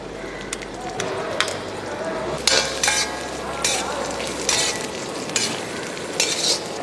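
Cashews and raisins sizzle in a pan for coconut halwa while a spoon stirs and scrapes in repeated strokes, a steady frying crackle under a person talking.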